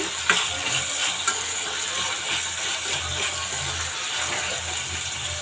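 Three medium tomatoes frying in a pan for tomato mint chutney give a continuous close sizzle, with a couple of sharp stirring knocks against the pan near the start and no talk.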